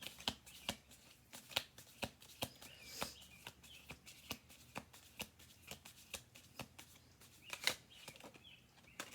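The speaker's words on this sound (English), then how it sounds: "we'll do one more shuffle" Quiet, close-up riffle shuffles of a deck of cards, repeated crisp bursts of flapping card edges in an irregular rhythm, with no speech.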